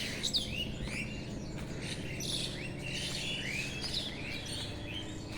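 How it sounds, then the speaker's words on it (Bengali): At dawn before sunrise, a dense chorus of birds chirping and tweeting, many calls overlapping in a steady, lively stream with no voices. "পাখিদের কিচির মিচির"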